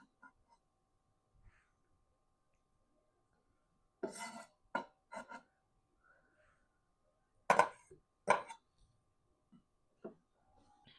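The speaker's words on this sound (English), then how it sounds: "Don't look at how I'm cutting this egg." A knife cutting a boiled egg on a board, giving a few sharp clicks and taps in short clusters, close by, with quiet gaps between.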